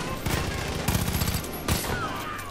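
Rapid bursts of automatic gunfire from a weapon in the video game Far Cry 5, several quick volleys in a row, loud and close, with game sounds in the background.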